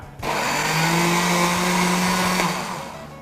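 A blender on low speed churns fruit, ice and water, starting abruptly with a loud steady whine and motor hum, then winding down near the end; no one speaks.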